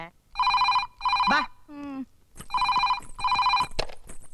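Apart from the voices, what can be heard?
telephone ringing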